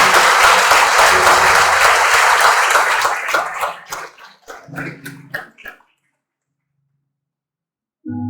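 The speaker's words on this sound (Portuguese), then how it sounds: "Dê uma salva de palmas ao Senhor Jesus" A church congregation bursts into loud, dense applause that thins into scattered claps and fades to silence, followed by a brief sound at the very end.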